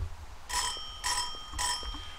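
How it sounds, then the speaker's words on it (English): A TP-3 military field telephone's ringer bell sounds in three short, loud bursts of rapid metallic ringing, evenly spaced about half a second apart, with quiet gaps and no voices. "Pretty loud bell."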